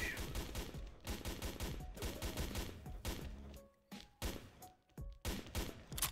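Gunfire from a sniper rifle in the shooter game XSHOT rings out in rapid, repeated bursts, loud and close, with brief pauses between volleys and no talk.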